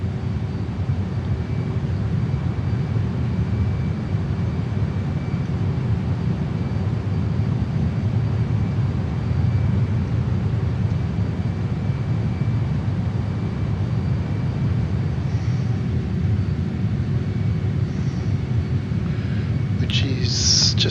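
A JAS-39 Gripen jet in Microsoft Flight Simulator flying near Bathurst, New South Wales, gives a steady, loud engine drone that holds constant throughout, with a faint brief noise near the end.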